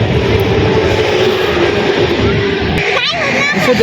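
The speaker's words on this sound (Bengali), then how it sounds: "যে ট্রেন চলতেছে" A steady rumbling roar of a passing train near the Padma Bridge, loud and close, with a brief squeal near the end and people talking over it.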